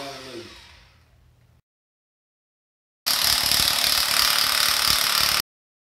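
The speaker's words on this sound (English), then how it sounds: "next we're gonna try another DeWalt electric or battery powered impact" Battery-powered DeWalt impact wrench hammering on a seized Acura/Honda crankshaft bolt, a loud, steady rattling burst lasting a couple of seconds after a fading clatter and a pause of silence.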